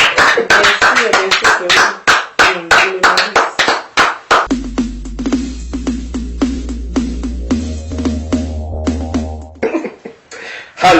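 A church congregation applauds the Lord during worship, dense rhythmic clapping that fills the room and sounds near, with a low hum and some voices in the background.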